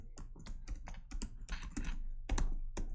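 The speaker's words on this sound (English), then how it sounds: "I will type my administrator and my password" Keys clatter on a computer keyboard as a password is typed, a steady run of quick, crisp clicks with a few heavier strokes, close up and without any talk.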